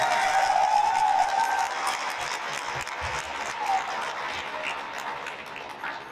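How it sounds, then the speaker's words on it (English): A crowd applauding student leaders at a school unity rally, steady scattered clapping at moderate distance that gradually tapers, with faint murmurs beneath. "give a round of applause to your student leaders putting this together"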